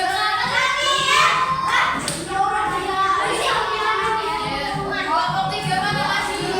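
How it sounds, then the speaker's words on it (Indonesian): Fourth-grade classroom applauding a student group, a dense patter of many small hands clapping close by, mixed with children's chatter and a few thumps. "Ya masih tepuk tangan untuk kelompok 1."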